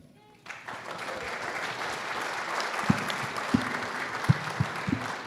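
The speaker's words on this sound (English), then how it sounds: "One more round of applause for our candidates and their hard work this campaign season" A crowd at a Virginia Senate candidate forum breaks into sustained applause, a dense steady clapping that swells after a quiet start, with a few sharper claps and faint voices mixed in.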